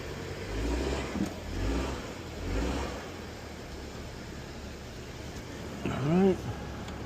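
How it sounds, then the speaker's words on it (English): A 2019 Honda CR-V engine rises in short revving pushes as the SUV climbs onto ramps for an oil change, moderately loud and close, followed by a brief squeal near the end. "we're going to bring the vehicle up on ramps so we can start this oil change."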